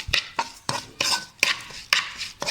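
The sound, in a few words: stirring sugar toffee mixture while cooking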